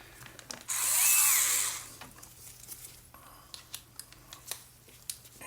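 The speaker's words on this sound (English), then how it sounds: "Got to take off a couple more screws" A small electric screwdriver whirs for about a second while backing screws out of an HT-18 thermal camera during a USB repair, followed by a series of light, close clicks and taps on the plastic casing.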